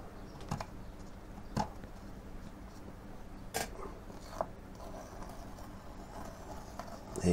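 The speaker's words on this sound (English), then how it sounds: "then you can start removing the actual tape like that, and you take these bits of tape off." Strips of tape are peeled off an acrylic colour chart, giving faint, sparse ripping and crackling sounds with a few sharper close clicks over a quiet room background.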